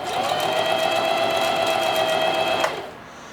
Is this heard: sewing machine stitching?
yes